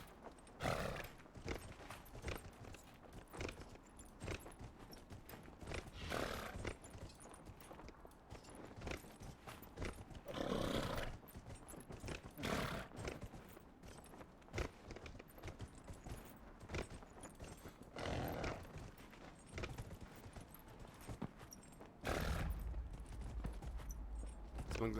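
A horse's hooves clip-clop in Dragon Age Inquisition, with a steady, fairly faint patter of footfalls across rough ground and a few heavier thuds mixed in.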